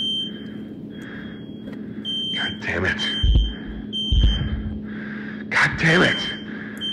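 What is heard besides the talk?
fire alarm beeping in a video game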